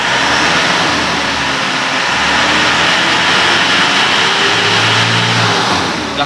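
Close, loud engine of a 2009 Isuzu Panther Grand Touring as the throttle is pressed, a dense broadband roar that swells and holds with shifting low hum, no talking.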